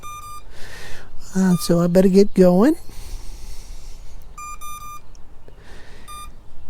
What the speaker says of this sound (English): the drone is beeping at me like it's been staying on too long